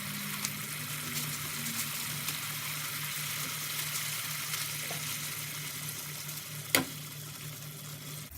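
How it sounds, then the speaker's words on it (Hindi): Chicken wings fry on high heat in a pan with a constant close sizzle, a faint hum underneath and a single sharp clink near the end. "हम 1 मिनट तेज आंच करके इसको भून लेंगे।"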